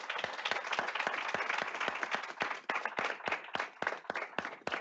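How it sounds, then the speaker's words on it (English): An audience at a university roundtable on diversifying education claps for the panelists. The applause is moderate and fairly even, with distinct individual claps standing out, and it carries on for several seconds without speech. "Shall we give them a round of applause?"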